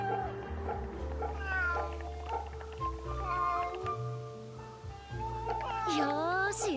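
Cat meowing in the video game Fate/Samurai Remnant: several drawn-out, rising meows over game music, with a final long wavering yowl, moderately loud.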